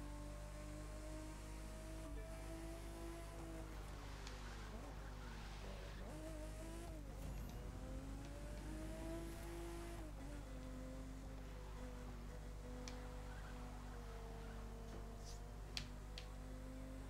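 Mercedes car in The Crew 2 video game driving on a snowy road: steady game engine drone with shifting pitch and faint tire noise, continuous and moderately loud, with no talk.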